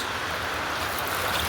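Floodwater pours into a rural house in Dubai, a steady, rushing wash of water that sounds close and fairly loud, with no voices over it.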